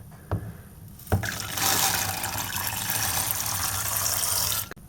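Water poured over wheat berries in a bowl to soak them overnight, a steady close splashing pour lasting several seconds after a couple of short knocks, ending abruptly.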